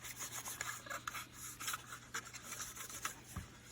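Cloth or pad rubbing across the roof surface of a 2004-2014 Ford F-150 near the third brake light, a soft continuous rasping wipe with faint repeated strokes, close and quiet, no talk.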